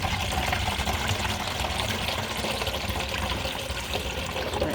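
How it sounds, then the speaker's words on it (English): Apple cider vinegar drips and trickles through a funnel into a bowl, a steady, close liquid patter that stays at an even level throughout. "Try to get where it's dripping above the bowl so I don't lose any."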